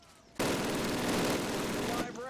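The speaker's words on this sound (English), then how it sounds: "Sergeant, fire up those machine guns!" A sustained burst of rapid machine-gun fire rattles loudly for about two seconds in a Call of Duty boot camp training scene, a dense continuous stream of shots that starts and stops abruptly.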